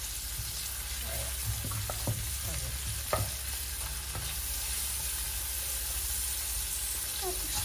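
Garlic and onion sauté in a pan with a steady, continuous sizzle, joined by a few faint clinks of a utensil against the pan. Nobody speaks.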